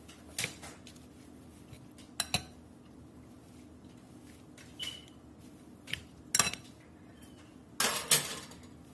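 Kofta ingredients with cashews and cilantro are mixed in a bowl, giving scattered sharp clinks and scrapes of a utensil against the dish, spaced irregularly over a quiet background and growing busier near the end.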